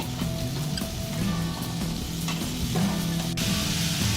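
Boiled jackfruit frying in a spice masala in a pan, giving a continuous moderate sizzle with occasional stirring scrapes over faint background music.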